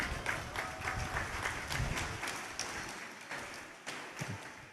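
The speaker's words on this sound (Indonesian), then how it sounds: "Sekarang tepuk tangan" A large audience claps steadily at a Maulid Nabi religious gathering, a dense, close wash of hand claps with scattered sharper slaps that slowly thins toward the end.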